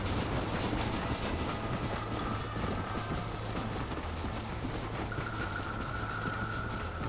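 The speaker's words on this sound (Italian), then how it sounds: "dobbiamo praticamente difendere il treno" A train runs in the Red Dead Redemption video game, a steady heavy rumble of wheels on track with a low hum, and a high squeal or whistle tone enters partway through. It carries on without pause and no one speaks.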